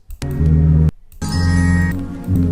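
Low, slowed-down musical sample chops in Logic Pro X, deep and sustained, two chunks separated by a short break, with a droning, pitched-down tone.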